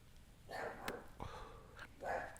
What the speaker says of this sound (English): if you can hear that dog, it's a next door dog, and he is having a bad day